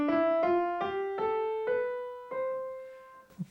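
A seven-note scale climbs step by step on a keyboard, each note ringing clearly and fading into the next, played alone at a moderate pace.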